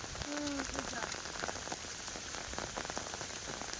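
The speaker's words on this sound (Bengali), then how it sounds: "বৃষ্টি হচ্ছে তো" Heavy monsoon rain pelts down near flooded fields and a pond, a close, dense patter of drops on surfaces with no talk.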